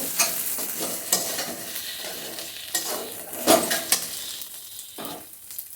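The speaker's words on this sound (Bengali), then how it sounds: "হাফ চামচের মতো টমেটো সস দিয়ে দিলাম দিয়ে একটু নাড়াচাড়া করে" Tel potol curry with a half spoon of tomato sauce stirred in, as a spoon scrapes and clinks against the pan in uneven strokes over a low background sizzle, close up and without speech.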